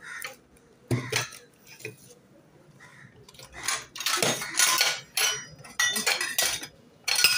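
Bowls and dishes are handled in a home kitchen, with scattered clinks, clatters and scrapes of crockery coming in irregular bursts, close and fairly loud.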